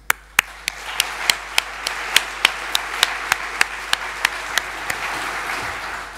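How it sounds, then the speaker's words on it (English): Conference volunteers at a EuroPython 2019 sprint session receive a round of applause: evenly spaced, sharp claps ring out over a steady wash of crowd clapping, lasting several seconds with no talk. "I think you deserve a separate special round of applause."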